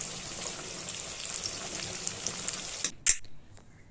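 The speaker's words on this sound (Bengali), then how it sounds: "ভালো করে নেড়ে চেড়ে আমি লাল করে উচ্ছেগুলোকে ভেজে তুলে নিলাম" Salted, turmeric-dusted bitter gourd fries in oil in a wok. A steady hiss of sizzling holds for about three seconds, then a sharp metal clank from the stirring spoon cuts in and the sound quiets.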